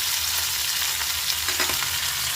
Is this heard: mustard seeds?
yes